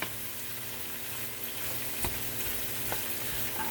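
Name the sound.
food browning in a hot pan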